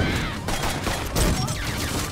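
Rifle fire in the video game Full Metal Furies crackles in a dense, continuous volley, loud and close throughout, with no clear gaps between shots.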